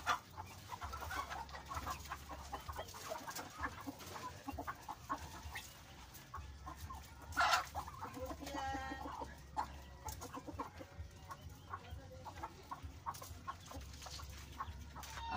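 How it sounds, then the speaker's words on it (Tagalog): Chickens cluck and crow continuously in a busy farmyard, with a rooster's call rising briefly above the steady background clucking. "magpakaon ito ko sa akong mga manok"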